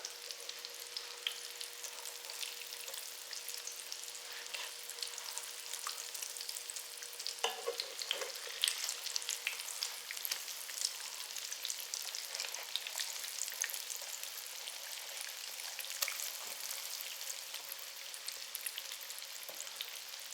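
Turkey croquettes sizzle in a frying pan after being flipped, a steady, crackling fry with brief louder bursts midway, no talking.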